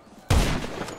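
A single sniper rifle shot fires in GTA 5, a sudden loud crack after a quiet moment that rolls into a long, booming reverberant tail fading over the rest of the second.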